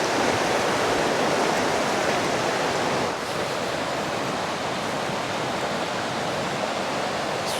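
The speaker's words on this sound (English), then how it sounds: "Big river, big views." A broad, constant rush of flowing river water in the Lake District fills the scene, loud and unbroken, like a fast current tumbling nearby.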